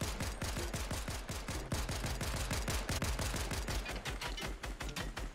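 Rapid bursts of automatic gunfire in Fortnite Chapter 4, dense repeated shots firing almost continuously and loud throughout, with no talking.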